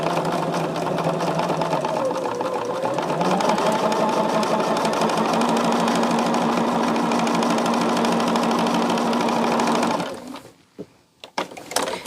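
Close, loud sewing machine stitching quilt pieces, a fast continuous motor whir and needle chatter that changes pitch slightly, then stops abruptly, leaving a few quiet handling clicks.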